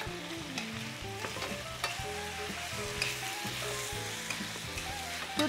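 Chicken cacciatore ingredients sautéing in a pan, with a steady moderate sizzle and frequent stirring clatters, while background music plays throughout.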